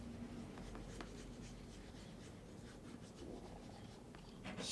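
Fingertips rubbing wax polish into a leather shoe, a steady soft brushy friction that continues evenly throughout, close and quiet with no talking.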